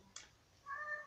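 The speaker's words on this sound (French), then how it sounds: "Si vous entendez mon chat miauler, c'est normal." A house cat gives one short, quiet meow in a calm room, preceded by a faint brief click.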